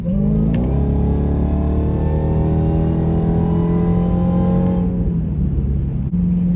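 A 2023 Dodge Demon 170 engine accelerates hard, a loud, close, continuous roar that climbs steadily in pitch for several seconds before easing off near the end.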